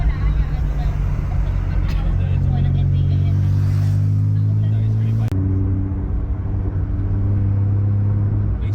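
A Toyota Wigo J manual hatchback with a 5zigen catback exhaust idles with a deep, loud rumble that rises and steps in pitch as the engine revs, heard close up, with people talking over it.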